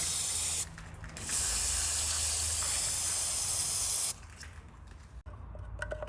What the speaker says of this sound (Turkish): Sensörün soketini öncelikle balata spreyiyle temizliyoruz.